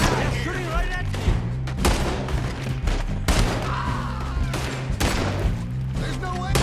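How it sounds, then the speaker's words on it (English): Repeated gunshots ring out during a chaotic shootout in the video game Red Dead Redemption 2, several sharp loud cracks spaced across the scene while people shout and talk over the firing. "Shooting right at me!"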